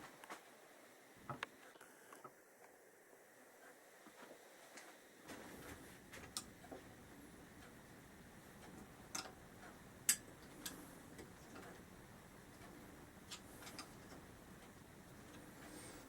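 A 10mm spanner works bolts loose on a Honda ST1100 motorcycle, giving faint scattered metallic ticks and clicks, irregular and close, over a quiet background.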